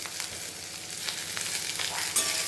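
Vegetables frying in white cooking oil in a pan with onions already fried, a steady dense sizzle with light stirring scrapes running throughout, close and alone with no talk.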